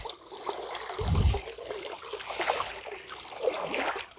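Water from a forest waterfall rushes and trickles continuously in the open air, with splashy swells and a low thump early on.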